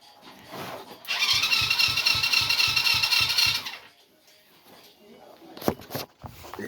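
A 50cc quad engine turns over on the starter for about two and a half seconds, a rapid even chugging of compression strokes without firing, followed by quiet handling noises and a couple of sharp clicks.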